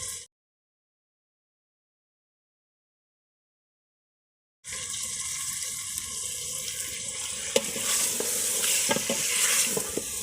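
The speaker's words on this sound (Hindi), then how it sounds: "ये अब इसको ना आहिस्ता आहिस्ता 10 से 15 मिनट के लिए भून जाएंगे।" Potatoes and egg curry fry and are stirred in a pan, a steady sizzle with scraping stirs and occasional clinks. It starts after a few seconds of silence and continues at a moderate, close level.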